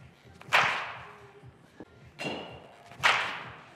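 Baseball bat striking balls at batting practice: three loud, sharp cracks spaced about a second and a half apart, each ringing briefly, with no talking between hits.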